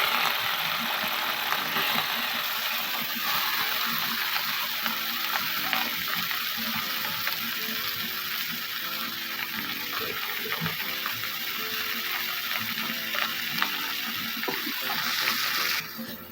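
Chicken pieces cook in oil in a pan for pepper dry chicken, making a dense, continuous, fairly loud sizzle with faint stirring scrapes and no voices.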